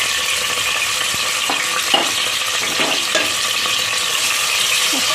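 Onions hitting hot oil in a pressure cooker, a loud steady sizzle and crackle with scraping stirring strokes and a few knocks, continuous and close with no talk.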